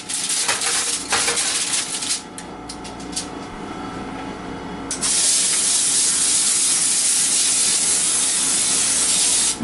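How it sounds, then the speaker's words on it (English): Cooking spray hisses in bursts over a foil-lined baking sheet, with a few short sprays and then one long continuous loud hiss in the second half. "And then I'm going to spray it down with cooking spray."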